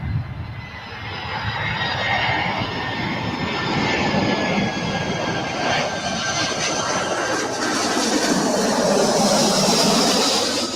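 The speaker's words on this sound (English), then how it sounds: "Landing on 24 right here in Los Angeles" An ANA Boeing 787 Dreamliner landing on runway 24 right at Los Angeles International Airport gives a loud, steady jet-engine roar that holds and swells slightly as it passes near, with no talk over it.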